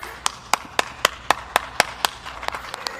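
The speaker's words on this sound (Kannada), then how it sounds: "ಚಪ್ಪಾಳೆ" Sharp hand claps, about a dozen in a steady, fairly quick rhythm, close and crisp with only faint background noise, at an indoor Raksha Bandhan celebration.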